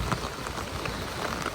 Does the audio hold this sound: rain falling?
yes